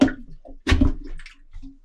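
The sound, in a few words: plunger pushing water out of a toilet bowl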